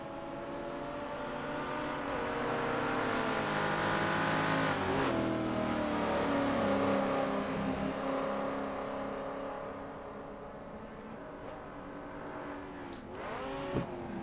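Touring car legends from 1967, including a Mustang and an Alfa, race at Silverstone in Assetto Corsa. Engines roar close by, swelling and fading as the cars pass through a corner, with quick gear shifts and revs.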